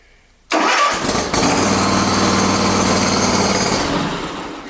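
A Kawasaki engine on a Hustler zero-turn mower catches and starts, then runs steadily with a loud, buzzing drone close by, with no talk over it.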